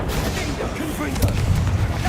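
A Confringo fire-blast spell explodes in Hogwarts Legacy, a loud, continuous rumbling blast with crackling debris and low booms lasting about two seconds.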